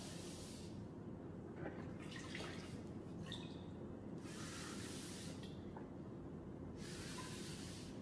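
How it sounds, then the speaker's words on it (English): Water hisses and sprays in repeated bursts as a wall is rinsed with a sponge, each spray separated by quieter dripping and trickling, fairly faint overall. "We rinse the wall."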